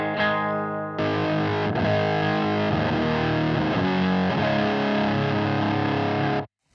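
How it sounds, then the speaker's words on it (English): Electric guitar through an AIB Hexed Custom Distortion Fuzz pedal with all controls at noon, a sustained saturated chord ringing loud and thick, a fresh strum around the one-second mark, then cutting off near the end. "now I'm going to push in the Hexed Custom Distortion Fuzz"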